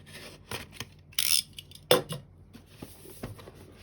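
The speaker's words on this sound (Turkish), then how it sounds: "Gelelim kutumuzu açmaya. Evet dikkatli bir şekilde açıyorum arkadaşlar." An AMD Ryzen 3 3100 processor box being carefully opened by hand, giving scattered cardboard clicks, taps and two short crisp rustling tears, quiet between.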